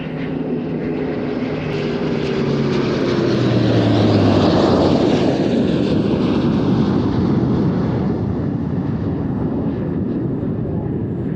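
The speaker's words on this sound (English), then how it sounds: "Arriving over the distant horizon from the right-hand side, this is the German Air Force tactical display." A German Air Force tactical display aircraft arrives at an airshow, its engine roar building from a distant rumble into a loud, broad, sustained sweep as it comes closer.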